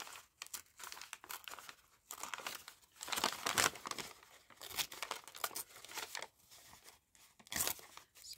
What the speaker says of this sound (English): I want to try and tear it out